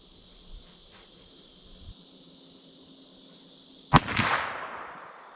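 One loud, sharp shot from a Taurus Raging Hunter .44 Magnum revolver with an 8.37-inch barrel cracks outdoors and rings off in a decaying echo, after several seconds of quiet with faint insect chirping.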